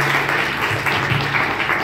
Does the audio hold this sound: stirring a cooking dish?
no